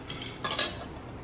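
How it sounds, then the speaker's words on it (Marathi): Roasted chickpeas tipped into a vessel make one short rattling clatter against the container, rising briefly above a quiet background. "आता ते आपण अशा एखाद्या भांड्यामध्ये काढून घेऊ"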